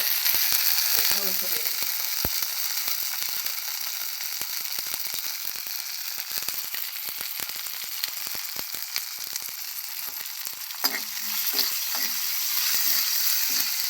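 Ginger-garlic paste fries in a pan as a loud, continuous hiss of sizzling oil. A couple of brief scraping stirs cut in near the start and again toward the end. No voices.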